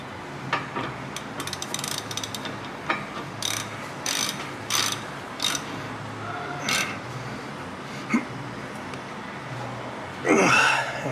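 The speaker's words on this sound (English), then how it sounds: "We grab our 18mm socket and tighten those up" A ratchet with an 18mm socket tightens large bolts during a CV axle job on a 1997-2004 Ford F150 or Expedition, giving repeated short bursts of close, crisp clicking with brief pauses between strokes.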